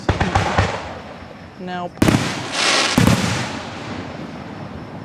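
Fourth of July fireworks at Gettysburg go off in a rapid string of sharp cracks and pops, then two big booming bursts with crackling tails. Voices speak briefly nearby.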